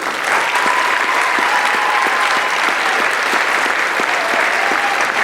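A concert audience gives a warm, dense round of applause for Karen Zundel at a 2019 farewell concert, loud and sustained throughout with no pauses.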